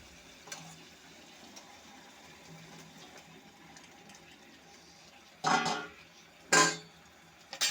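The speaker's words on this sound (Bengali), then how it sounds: "এখন চিকেনগুলো দিয়ে দেব।" Raw chicken pieces tipped into a pan of fried spice paste for a Bengali capsicum chicken curry, two loud sizzling bursts close by after a quiet stretch of low kitchen hiss.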